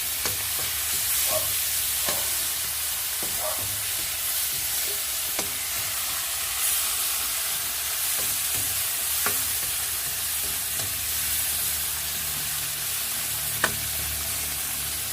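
Tomatoes sauté in a pan for a stir-fried corn and squash flower dish, a steady close sizzle with scattered small pops and occasional utensil clicks, no voices.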